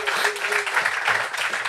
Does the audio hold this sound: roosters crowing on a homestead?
no